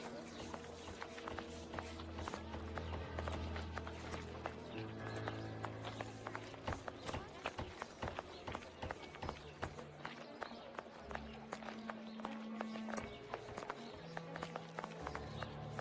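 Horse hooves clip-clopping at a steady trot in The Testament of Sherlock Holmes game, busy and continuous under layered game music, with a person talking over it.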